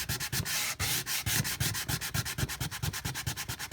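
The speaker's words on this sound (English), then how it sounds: "So I'm just going to sand off a little bit." Sandpaper rubs back and forth across a canvas frame in quick, steady strokes, a close, dry scratching rhythm with no voices.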